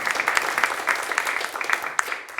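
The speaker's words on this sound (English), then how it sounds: "Can we get a big round of applause for Stephanie" An audience at a pain education livestream event applauds volunteer Stephanie with a brisk, moderately loud patter of clapping hands, several sharper individual claps rising above the steady spread of applause.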